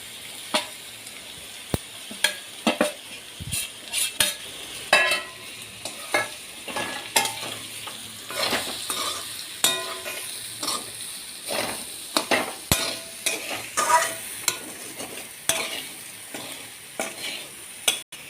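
Lentil usili for a traditional urad dal kozhukattai is stirred and pressed in a pan, with a soft steady sizzle under repeated scraping strokes and sharp clicks of the spatula against the pan.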